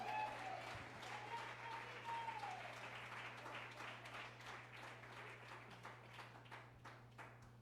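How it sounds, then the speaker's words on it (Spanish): A church congregation in Medellín, Colombia claps together in sustained, steady applause that fades gradually, with a low constant hum beneath. "Denle un aplauso al Señor."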